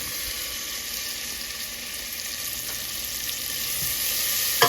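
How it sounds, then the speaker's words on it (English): Chopped onion sizzles in about two teaspoons of olive oil in a pan for chicken noodle soup, a steady, close hiss throughout with a small clatter at the end. "I'm putting about 2 teaspoons of oil, and that was olive oil. I'm going to put the onion in first."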